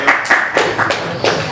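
A crowd claps in a brief burst of applause at a student candidate debate, loud and close, with a voice speaking over it.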